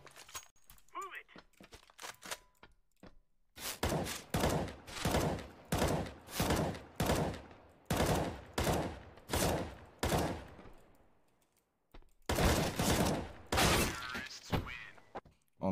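Counter-Strike (CSGO) gunfire in a 1v1 match: a run of rapid, evenly spaced loud bursts, a short pause, then a few more bursts close up.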